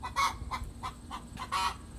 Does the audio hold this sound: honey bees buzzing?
no